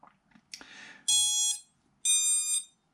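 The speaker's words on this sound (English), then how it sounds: "So we'll disconnect, the ESCs will beep to confirm." Quadcopter ESCs give two steady electronic confirmation beeps, each about half a second long with a clear pause between them. Light clicks and handling noise come just before the beeps.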